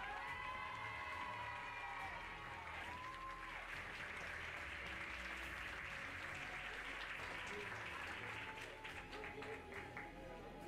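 Continuous crowd applause at an equestrian prize-giving ceremony, steady clapping with some cheering, somewhat distant, while an announcer's voice carries over it.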